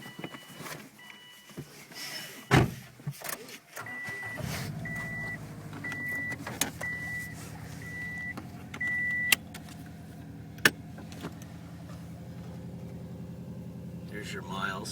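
A 2007 Subaru WRX with a short shifter starts up and settles into a steady engine hum after a sharp start, with faint beeping chimes and a person talking inside the car.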